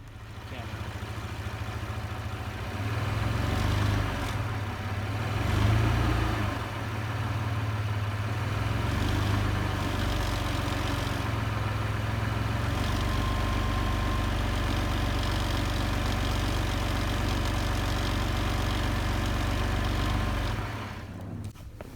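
A 2017 Chevrolet Colorado engine idles steadily and close, with a low, even rumble that lasts the whole stretch and shifts slightly in pitch midway, with no talk over it.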